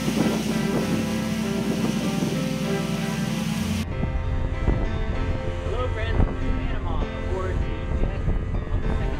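Ocean waves wash against the bow of an expedition ship sailing the Pacific off Costa Rica, a steady broadband rush with wind noise, and the sound thins partway through.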